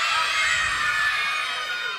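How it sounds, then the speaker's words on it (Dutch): A children's audience at a theater show screams in a high, sustained shrill wash of voices that keeps going at a steady loud level. "ik weet al waarom jullie gillen"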